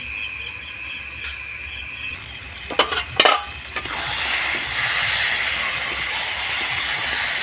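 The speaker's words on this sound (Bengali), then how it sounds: "মাংসটা আবার এই মটনটা আবার আমি নেড়ে নিচ্ছি ভালো করে।" Mutton cooking in a wok, with a steady sizzle broken by a few loud scraping stirs of a spatula before the frying hiss swells back up.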